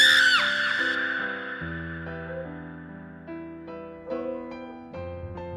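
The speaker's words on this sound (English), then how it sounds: "Huema got scared and screamed" Girl screaming in fright, a high shrill cry that fades into tense dramatic music with deep sustained tones and sharp hits.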